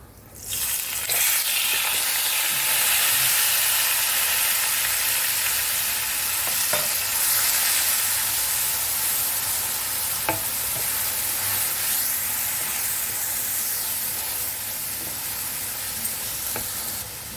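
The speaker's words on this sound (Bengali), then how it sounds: "এবার আমি এর মধ্যে বেটে রাখা পেঁয়াজটা দিয়ে দিচ্ছি।" Onion paste frying in a pan after a spice tempering, a loud, steady sizzle with steamy hiss and occasional stirring clicks, continuous throughout with no talking.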